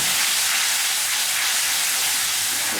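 Tamarind juice pours into a hot pan of rohu fish gravy, giving a steady, close sizzling hiss that carries evenly throughout with no talking.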